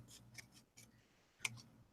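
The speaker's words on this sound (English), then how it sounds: "I'm cutting out some hearts." Scissors snip paper hearts in a handful of short, crisp cuts with brief pauses between, close and fairly quiet, one snap standing out louder near the end.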